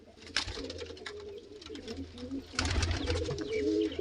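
A pigeon coos close by in low, soft repeated calls, with more cooing building toward the end and faint background voices beneath.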